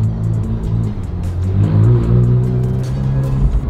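A car drives into the Blenheim Palace courtyard during an outing following a McLaren Senna to Salon Privé, its engine a loud, close, steady rumble with slight revving.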